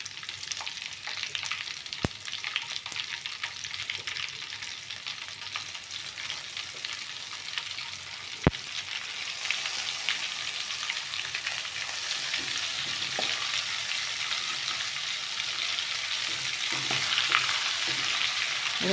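Cumin seeds frying in melted butter in a pan for Kathiyawadi-style pav bhaji, a steady close sizzle with occasional stirring clicks, no voices.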